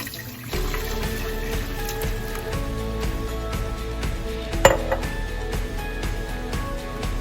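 Water runs steadily from a tap for several seconds, a continuous close splashing fill, about two cups poured for a crab and shrimp seafood boil, with one brief clink partway through.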